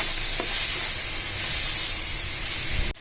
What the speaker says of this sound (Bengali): দিয়ে এবার ভালো করে উল্টিয়ে পাল্টিয়ে মিশিয়ে দিব